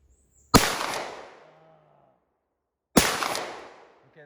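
Two loud shotgun blasts firing slugs at targets during a 3-gun stage, outdoors, each a sharp crack with a decaying echo, spaced about two and a half seconds apart.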